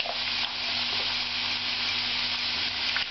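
Potatoes for a Spanish tortilla española fry in very hot oil, a dense, steady hiss and crackle filling the whole stretch, close and loud, with no talking.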